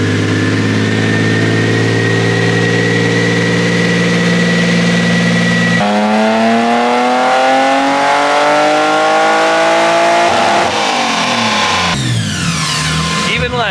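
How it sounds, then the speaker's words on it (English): BMW E30 with an ITB-equipped S52 engine revving hard on a dyno, loud exhaust climbing and falling through sweeping pitch changes, sustained and close, a voice occasionally heard beneath the roar. "The exhaust is definitely louder."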